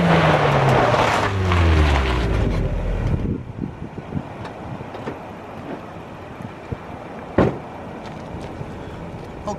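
A lowered Miata accelerates with a loud engine rush and rising gear sweeps, then settles into a quieter cruise with road and wind noise and occasional bumps and clunks from the car.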